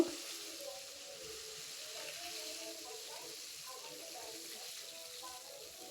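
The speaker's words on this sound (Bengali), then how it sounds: "আমার অন্য দিকটা ভাজা হয়ে গেছে, আমি আরও অন্য দিকটা ভেজে নেব" Japanese puti fish frying in hot oil, a soft, steady sizzle with fine crackle running throughout at moderate distance, fairly quiet and even.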